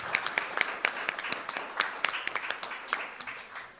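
Applause at a business networking forum launch for a new chapter, with a modest crowd clapping in a sparse, uneven patter of distinct claps that holds steady throughout.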